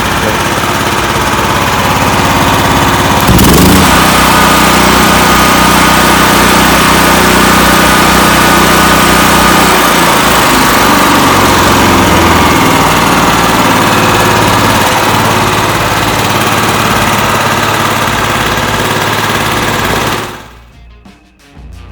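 A DeWalt DXGNR6500 6500-watt portable generator engine runs loud and steady for about twenty seconds, with a sharp clunk near the start and the engine cutting out abruptly at the end.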